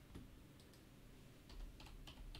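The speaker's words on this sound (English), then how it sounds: "you can type" Someone types on a computer keyboard while writing an R Markdown command, producing faint, scattered key clicks over a quiet room hiss.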